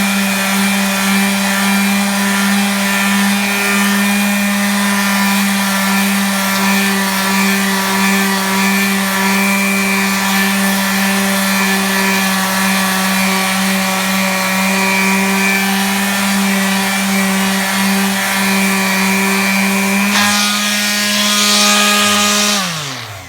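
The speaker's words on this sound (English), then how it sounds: "We're gonna start out with 120." A motorised sander works over a smooth wall with 120-grit paper, giving a loud, steady droning whine that holds unchanged for a long stretch before shifting slightly at the end.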